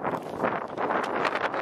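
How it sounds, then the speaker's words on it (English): Gusty wind buffeting the microphone in uneven bursts, a rough close-up rumble and rush with no talking. "It's literally just the wind that I hate."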